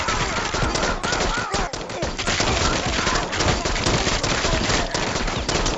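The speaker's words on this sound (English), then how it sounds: "He's totally gonna shoot him." Dense, continuous bursts of rapid gunfire from a Rick and Morty cartoon episode, loud and sustained like a machine-gun fusillade filling the whole stretch.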